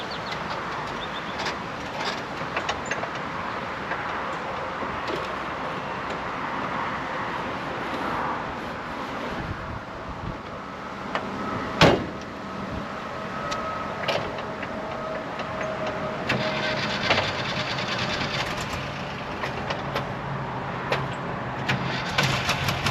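A 1968 Volkswagen Westfalia bus drives under its own power for the first time in ten years, its air-cooled engine giving a steady, moderate rumble with some rattles and one brief clunk midway, and no talking.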